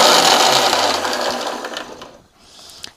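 A kitchen mixer grinder grinds a paste with a loud, close, high whirring motor that winds down after about two seconds, then starts a brief quieter second run.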